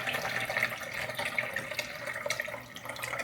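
Water pours steadily into the reservoir of a Ninja AutoBarista coffee machine, a soft, continuous trickling and splashing at close range with no speech over it.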